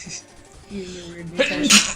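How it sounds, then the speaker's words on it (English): A person sneezes once, loud and close, with talk just before it during a casual game-playing session. "I feel like I gotta sneeze"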